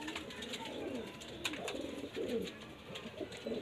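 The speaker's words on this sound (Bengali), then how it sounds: "ফিমেল মাদি পায়রা" White Jiria pigeons, a female among them, give soft, low cooing calls in short repeated phrases, faint and close in a quiet setting.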